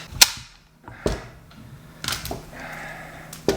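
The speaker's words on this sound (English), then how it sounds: "spear goes in there, clicks in place" Loading a speargun, the spear slides in and clicks into place, several sharp close clicks and knocks separated by brief pauses, with a faint scraping sound between them.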